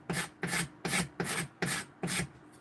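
A cabinet scraper drawn across a hand-carved wooden spoon in six even, rhythmic rasping strokes, close and steady, with no talking.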